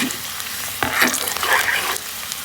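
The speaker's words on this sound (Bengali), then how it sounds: "তো আমি একে সব সবজিগুলো ভালোভাবে ভেজে নেব।" Vegetables sizzle in a hot pan, with a loud, bright crackle that swells in bursts as they are moved about, close and without voices.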